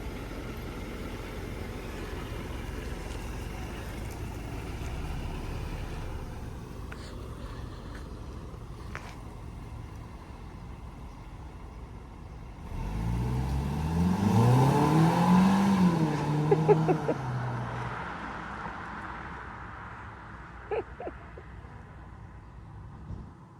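A car engine sits in a steady low rumble, then roars to life and revs with a rising, climbing whine before settling, with a few faint clicks afterward.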